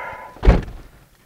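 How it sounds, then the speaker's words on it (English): A car door closing from inside, one close, solid thunk with a short muffled decay. "Close the door."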